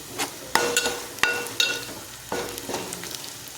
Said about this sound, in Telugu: బీన్స్ ఫ్రై అయిపోయినాయి